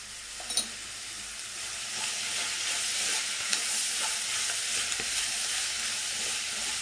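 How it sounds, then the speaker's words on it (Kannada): Sliced onions with turmeric fry in a pan, a steady close sizzle with faint scraping stirs and a few light clinks, no one speaking. "ಇದೆಲ್ಲ ಚೆನ್ನಾಗಿ ಫ್ರೈ ಆಗಲಿ"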